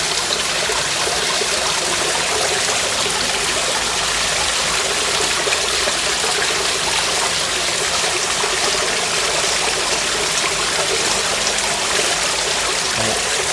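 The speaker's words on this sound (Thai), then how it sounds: "เสร็จแล้วก็ฟังเสียงน้ำตกไปอย่างนี้นะ" Steady broadband rush of a waterfall and flowing stream, loud and continuous throughout with no talking.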